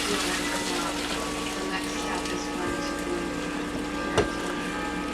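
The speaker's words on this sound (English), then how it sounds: "So the first thing we want to do is drain off some of this liquid." Cooking liquid from a pot of chicken noodles pours into another pan as a steady, close rush of water with a faint clink partway through.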